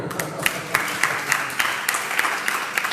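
A crowd applauds steadily, with dense overlapping claps and a few sharper individual hits standing out, sustained throughout.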